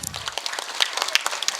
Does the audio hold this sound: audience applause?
yes